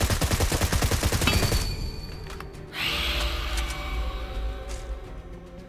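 Rapid automatic gunfire in PUBG Mobile rattles loudly for over a second in a close, fast burst, then stops, leaving quieter game ambience with a few faint clicks and shuffles.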